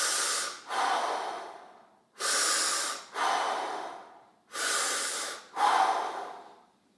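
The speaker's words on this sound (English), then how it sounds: "what you want to do is breathe 6 times" Deep, slow breaths taken during a fascia stretch exercise, three paired cycles of long rushing inhales and exhales through the nose, close and steady with no talking.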